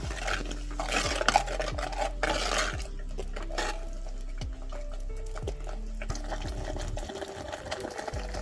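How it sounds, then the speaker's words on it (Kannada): Ground masala is mixed and brought to a simmer in a pot for a wild fig gravy, with repeated clinks and scrapes of a spoon against the pot over a soft bubbling, wet background. "ಮಸಾಲಾನ ಈ ರೀತಿ ಚೆನ್ನಾಗಿ ಮಿಕ್ಸ್ ಮಾಡಿ ಸ್ವಲ್ಪ ಸಮಯ ಕುದಿಸ್ಕೊಳ್ಳಿ"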